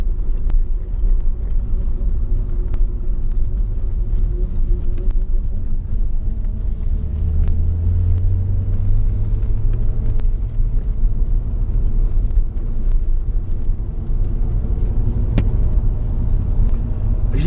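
A Porsche 928 V8 runs as a steady low rumble from inside the car, with a rise in engine tone midway and light rattles and clicks over the continuous drone.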